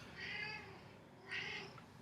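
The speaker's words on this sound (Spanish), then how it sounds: "Se despertó el gato de la siesta." A cat just woken from a nap meows twice, with a short pause between the calls; both are fairly soft over quiet room noise, and the second is slightly stronger.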